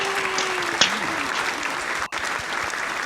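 A crowd applauds in a social VR setting, with a dense, steady clapping wash that stays even for about three seconds, broken by a brief dropout near the end, while a voice briefly sounds over it.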